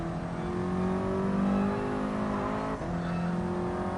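Race car engine in Gran Turismo Sport, a steady droning rev held at high pitch, with a brief dip and shift around the middle before the tone settles again, loud and close.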